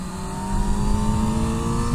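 Honda CBR600F4i sport motorcycle engine holds a steady, loud, high-pitched drone with slight swells as the bike swings side to side through a chicane, heard close and alone.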